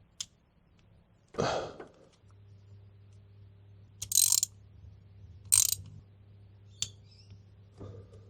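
Ratchet wrench snugging spark plugs on a car engine, heard as a few short, separate bursts of clicking spread across the clip, close by, with a low steady hum underneath.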